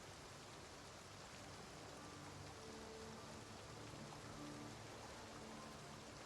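Steady video game rain hisses evenly throughout, a soft continuous wash with no voices, fairly quiet and unbroken.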